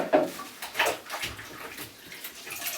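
Water splashes and sloshes in a baby's bath as the infant is dangled over it with a washcloth, giving close, irregular soft splashes and drips with no talk.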